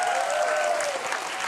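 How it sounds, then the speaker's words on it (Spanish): A television studio audience claps in a dense, sustained burst of applause that holds steady throughout. "Fuerte el aplauso para ellos, por favor."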